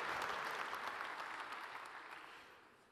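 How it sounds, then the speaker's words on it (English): Audience applause at a conference talk on industrial internet systems: dense, steady clapping from a crowd that starts full and gradually fades over about three seconds, with no talking. "Please, thunderous applause."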